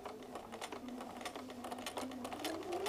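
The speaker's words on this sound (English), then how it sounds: "Now we're just simply going to stitch on the line." A sewing machine stitches along a line on a quilt using invisible thread, making a quiet, rapid, even ticking rattle close by with no voices.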